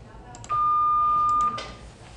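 A single pure 1209 Hz tone, one of the phone keypad DTMF frequencies, sounds steady and clear for about a second, alone with no talk.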